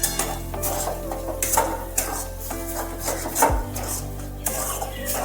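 Soybean chunks are stirred with garlic and ginger paste in a cooking pot, giving close, steady scraping and rubbing with occasional clinks of utensil on metal, and no one speaking.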